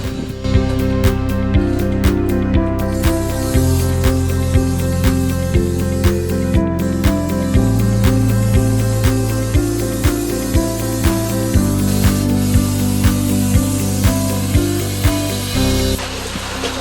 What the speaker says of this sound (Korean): 지금부터 폼 쏘는 작업을 하겠습니다.